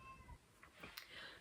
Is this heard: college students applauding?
no